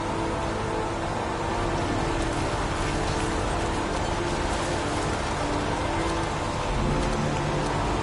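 Steady heavy rainfall in a PS4 video game, a dense, even hiss of drops that stays loud and unbroken from start to finish.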